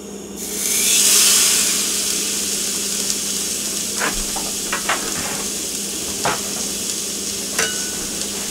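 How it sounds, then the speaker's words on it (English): Sesame crusted tuna sears in a hot pan with a steady, loud sizzle and hiss, punctuated by several light clicks and scrapes of a utensil; no voices. "And we're just going to sear this."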